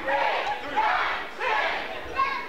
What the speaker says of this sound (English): The NWA SCW crowd counting with him.